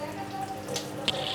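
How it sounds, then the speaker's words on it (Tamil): A washing machine runs in the background with a low steady hum and soft watery sloshing, plus a couple of brief splashy bursts, fairly quiet and distant. "பின்னாடி ஓடுற சத்தம் வேறு எதுவும் இல்லைங்க, வாஷிங் மிஷின் தாங்க."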